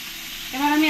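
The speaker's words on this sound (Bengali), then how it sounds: "দুপাশ একটু কড়া কড়া করে ভেজে নিতে হবে" Brief close-up sizzle of bhola fish frying in a pan, the hiss swelling louder halfway through as something shifts in the oil.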